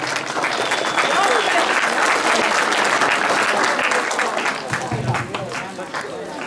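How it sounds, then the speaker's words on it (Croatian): A crowd at a 2023 sports and recreation day in Lozna applauds Adan Mušević, a school representative: loud, dense clapping that runs steadily throughout and eases slightly near the end. "Molim jedan veliki aplauz za Adana Muševića."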